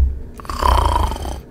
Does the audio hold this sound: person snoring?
yes